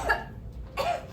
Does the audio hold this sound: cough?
yes